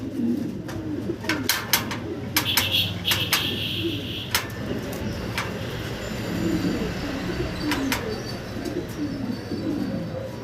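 Fancy pigeons crowded in a small cage coo softly and steadily, with faint sharp calls and a bit of quiet talk nearby.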